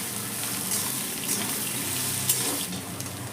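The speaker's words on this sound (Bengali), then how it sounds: "সেই পেঁয়াজটাকে দিয়েও আবার ভালো করে নেড়ে নেবো" Thinly sliced onion frying and stirred in a pan for a kochur loti dish, a loud close hissing sizzle with occasional stirring scrapes, continuous and without talk.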